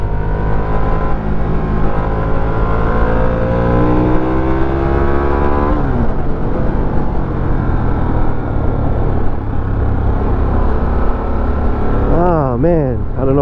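Harley-Davidson 2022 Sportster S motorcycle engine droning and revving on a ride through Daytona Bike Week, pitch climbing and dropping as the rider shifts gears, with a rider talking over the steady engine.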